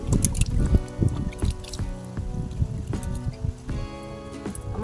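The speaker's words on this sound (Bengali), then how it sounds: "এখন আমি জল দিয়ে ধুয়ে নিচ্ছি।" Water splashes and trickles while a shakha conch-shell bangle is rinsed, with uneven bursts of dripping, pouring and handling knocks close by, and no talk.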